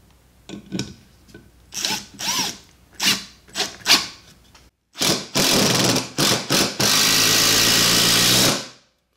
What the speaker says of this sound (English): let's try this lag bolt into the end of this 2x4 with no pre-drilling